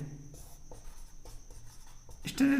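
Chalk or marker strokes on a classroom board during a Hindi-language electrical engineering lesson about cables, a series of short scratchy strokes close by under a steady background hum, with a louder scrape at the end.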